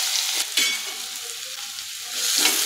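Finely chopped onion hits hot oil in a kadhai with mustard seeds and cumin, a steady broadband sizzle with bursts of crackle at the start and end, close and fairly loud with no talking.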